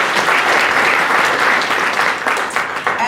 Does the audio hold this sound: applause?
yes